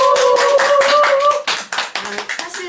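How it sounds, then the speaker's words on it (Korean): Audience applause greets a speaker at a Korean book-club philosophy talk on anxiety, a dense burst of hand clapping with talk over the start, thinning into scattered individual claps toward the end. "네, 박수!"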